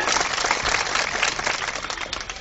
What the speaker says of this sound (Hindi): फिर एक बार ताली बजाएं।